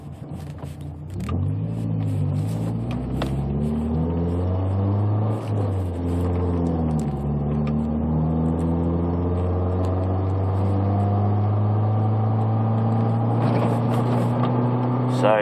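A lowered 1991 Nissan S13 on chop springs climbs a mountain road, its engine droning steadily with rising and shifting revs and a constant close interior rumble.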